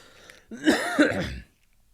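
A single short cough, close by and fairly loud, followed by quiet.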